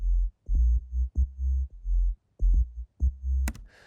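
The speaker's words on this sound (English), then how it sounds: "Sub bass solo." A deep sub bass synth plays alone in short, heavy sustained notes with brief gaps between them, a low throbbing line that ends with a quick bright hit.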